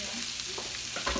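Tomatillo, jalapeños and onion cook with bacon in a pot for frijoles charros, giving a steady, close sizzle with soft stirring scrapes.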